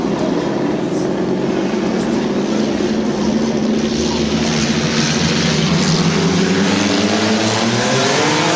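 Eight stock compact race cars roar together on a small oval track at Midvale Speedway, a loud, continuous engine drone with rising and falling pitch as the pack passes, with faint announcer talk underneath.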